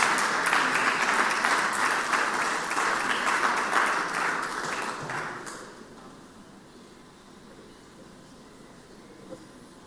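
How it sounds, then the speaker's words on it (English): Applause fills the Senate chamber, a broad wash of clapping from the room that stays strong for several seconds, then tapers off and fades to quiet room tone. "give them a round of applause"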